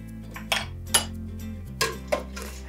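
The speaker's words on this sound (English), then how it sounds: "I'm gonna stir it thoroughly." A utensil stirs avocado pit dye in a pot, making about four sharp metallic clinks and scrapes against the pot over a low background hum. The sounds are close and there is no speech.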